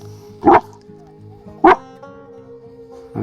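Two sharp, loud dog barks ring out about a second apart, close by in the Welsh countryside near sheep, over a quiet background with faint tonal hum.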